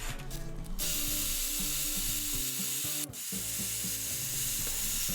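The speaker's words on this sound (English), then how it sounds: "Now we're going to slap it on the drill and make some quick progress." A power drill spins continuously with a grinding, rubbing whine as it sands a wooden lathe-turned tool handle, briefly dipping once before resuming, close and loud.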